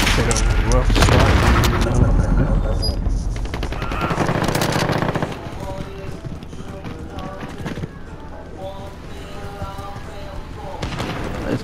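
Rapid bursts of automatic gunfire and booms in a Call of Duty: Modern Warfare match, loudest early then continuing in scattered volleys, with a voice talking over parts of it.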